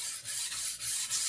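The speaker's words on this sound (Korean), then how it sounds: "물을 넣고 이렇게 밀면서 또 이쪽에 이 면을 10번을 갈았으면" A knife blade is pushed back and forth across a wet sharpening stone in steady, close rasping strokes, roughly four or five of them, each separated by a brief dip in sound.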